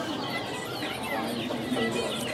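Chickens clucking at a traditional village market plaza in Oaxaca, a continuous busy murmur of fowl clucks under general market ambience.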